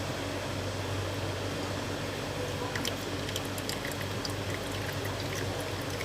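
Phalsa juice strained through a doubled piece of net cloth, a constant close trickling and pouring wash that runs steadily with faint drips toward the end, no voices.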